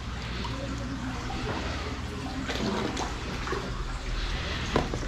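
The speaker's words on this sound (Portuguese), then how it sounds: "vou ter que pegar um pouquinho de água boa aqui, ó. Vou dar uma esvaziada." Water is drained from an Oscar fish tank with a steady, close splashing and pouring flow that runs on without a break, without talk.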